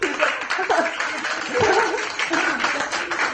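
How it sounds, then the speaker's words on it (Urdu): Audience applause at a book launch event, a dense continuous patter of many hands clapping in a hall, mixed with murmuring voices and a little laughter. "ویسے اس میں تو آپ لوگ تالیاں بجائیے"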